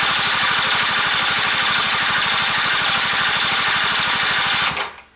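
A Quantum RS engine, spark plug fitted, is cranked with no throttle and fails to start: a steady, rapid, even chugging at close range that runs for almost five seconds, then cuts off abruptly.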